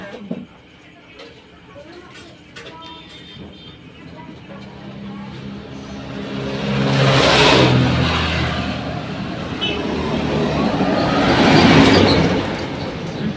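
A motorbike engine revs on a road, building into two loud, drawn-out surges that swell and fade a few seconds apart, with people talking nearby.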